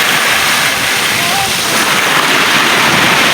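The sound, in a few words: ocean waves crashing on the shore at high tide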